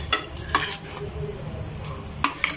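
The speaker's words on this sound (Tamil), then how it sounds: "இப்போ வந்து சிக்கன் சேர்த்துடலாம்." Chicken pieces are stirred into a masala base in a pot for Ambur chicken biryani. A few sharp spoon scrapes and clinks sound over a light, steady sizzle, close and fairly quiet.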